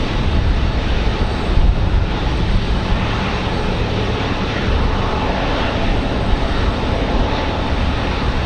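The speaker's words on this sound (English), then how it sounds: "APU running on the Dreamliner over there." The auxiliary power unit of a Boeing 787 Dreamliner runs on the ramp at Raleigh-Durham airport on a windy day, a continuous loud whine-and-rush drone holding steady with slight gusty fluctuations.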